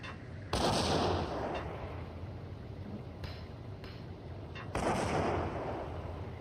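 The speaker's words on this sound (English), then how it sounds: "Ooh, nice grenade." Grenade explosions and gunfire in the Max Payne shooter game, two loud booming blasts a few seconds apart with sharper shots between them, all close and dense without talk.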